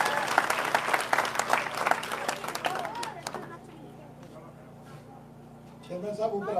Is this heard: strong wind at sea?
no